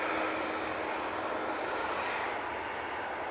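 Boeing 787-8 Dreamliner jet departing Manchester Airport, a steady broad roar of engine noise held evenly throughout at moderate distance, with no voices.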